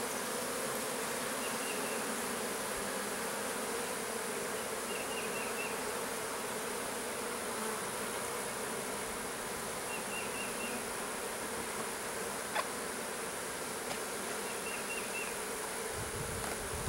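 A honeybee swarm with a drone-laying queen hums in a steady, dense drone throughout, with faint individual buzzes passing close now and then and no talking.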